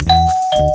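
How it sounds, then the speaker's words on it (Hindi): A two-note electronic doorbell chime sounds once, ding then dong, loud and close with a short ringing decay. "चलो घंटी बजाओ।"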